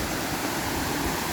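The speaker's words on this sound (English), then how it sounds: "This waterfall is called Mother Waterfall, Cachoeira Mãe" Mother Waterfall (Cachoeira Mãe) on a forest hike, a steady broadband rush of falling water, close and unbroken, with no voices.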